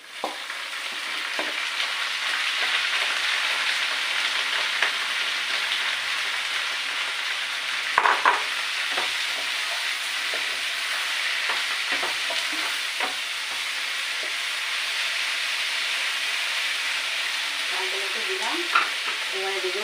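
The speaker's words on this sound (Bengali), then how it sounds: "পেঁয়াজগুলো লাল লাল হয়ে ভালোভাবে ভাজি হয়ে যাচ্ছে এই যে সুন্দর হয়ে গেছে এবারে আমি এর মধ্যে শাকগুলো দিয়ে দিচ্ছি" Spinach greens frying with browned onions in a pan make a loud, steady hiss with rain-like crackle, plus occasional scraping stirs and a louder clatter near the middle.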